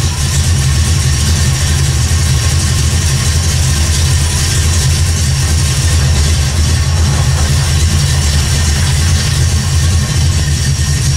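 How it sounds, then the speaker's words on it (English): A 1979 AMC AMX engine idling after a carburetor install, a loud, steady low rumble that holds constant throughout with no talking. "Well, it's running. It's idling."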